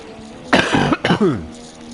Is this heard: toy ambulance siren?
no